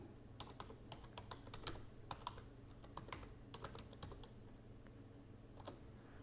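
Typing a Google search on a computer keyboard, a quick irregular run of soft key clicks close by, over a faint steady hum, with no talking.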